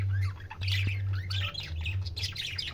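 Budgerigars chirp and warble continuously in an aviary holding more than ten birds, with overlapping bright calls close by over a steady low hum.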